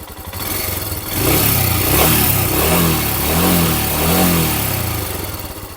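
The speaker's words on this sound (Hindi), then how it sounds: "अगर मैं रैप करता हूँ तो देखिए," A 2023 Royal Enfield Himalayan 411 BS4 single-cylinder engine idles, then is blipped through several rising and falling revs before easing back down, loud and close.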